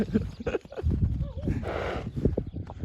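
Draft horse hooves clip-clop in an uneven rhythm close by, with a person talking over them.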